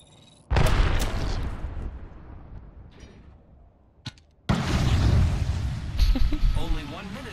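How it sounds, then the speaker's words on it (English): A grenade in the battle royale video game Apex Legends bursts with a loud, booming blast that rumbles and fades, a short pop, then a second long, roaring explosion with crackling debris and brief voice-like chatter near the end. "Look out, grenade!"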